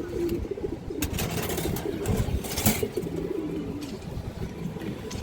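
Female Giribaz high-flyer pigeons cooing softly near at hand among general rustling and faint background noise, with a few brief scuffles.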